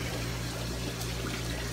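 Water pours steadily back into an aquarium sump in a fish room, a constant close trickle with no pauses.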